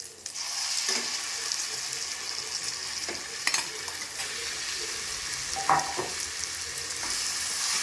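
Bandar chutney hitting hot tempering oil and frying, a steady hissing sizzle with occasional spoon scrapes and clinks as it is stirred, close and continuous.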